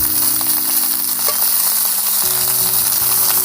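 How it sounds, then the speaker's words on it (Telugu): Eggplant fries in oil in an iron kadai, giving a loud, dense, steady sizzle close up, with a low hum running underneath and no voices. "వంకాయలు ఎలా తిప్పుకుంటే అన్ని పక్కలు ఫ్రై అయిపోతాయి"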